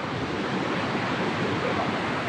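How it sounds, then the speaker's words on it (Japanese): Ocean waves wash onto a hard-sand beach in Phuket, a loud, continuous surf roar with wind buffeting the microphone and no voices. "海の音を聞きながら"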